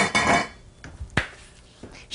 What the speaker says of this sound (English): Okay, mix that all up in there like that.